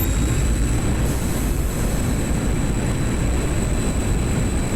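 A jet engine roars steadily at full power during a takeoff run in the DCS flight simulator. The loud, dense rumble holds unbroken throughout, with no voices.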